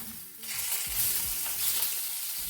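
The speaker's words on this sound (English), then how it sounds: "Remember we are stir-frying." Chicken sizzles loudly in a hot pan with scraping stirs and tossing, a steady hiss of stir-frying close up.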